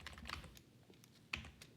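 Close, quick clicking keystrokes on a computer keyboard while a simple MySQL query using NULLIF is written, in a few bursts with short pauses and no talking.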